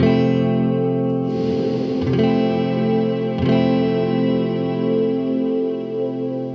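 Death By Audio Rooms reverb pedal on its digit setting, washing sustained guitar chords into a dense, shimmering synthetic-orchestra tail, with two fresh strums near the start and middle blooming into the steady reverb wash, loud and alone.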